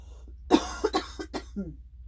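A few short coughs in quick succession, close and fairly soft, followed by a brief throat-clearing sound.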